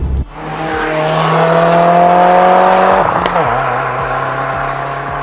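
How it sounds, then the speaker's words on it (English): 2016 Subaru WRX fitted with an axle-back exhaust and 5-inch muffler, engine revving hard and loud up close, then the pitch drops sharply as it shifts or lets off and settles. "The only modification that I have in this car is a nameless axle back exhaust."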